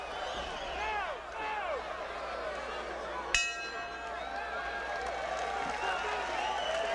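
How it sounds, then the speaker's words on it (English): At a boxing match in Houston, a distant crowd roars and claps steadily with whistles mixed in. A sharp bell-like clang rings out midway, and a commentator's voice runs underneath. "Well, the crowd has certainly gotten into this fight now"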